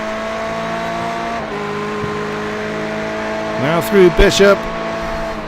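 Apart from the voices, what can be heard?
GTE race cars racing at Sebring in iRacing video game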